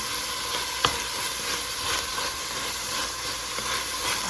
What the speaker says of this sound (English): We're just going to let this saute down for a second.